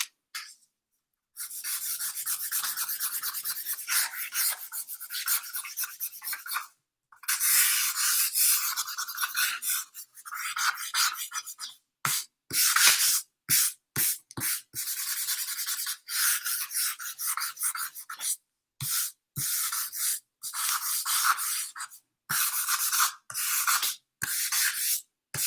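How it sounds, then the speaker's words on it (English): Charcoal rubbed over the back of a printed paper image, a steady scratchy rasping in repeated long strokes separated by brief pauses, close and fairly loud with no talking. "you can go ahead and rub the charcoal on the back of that."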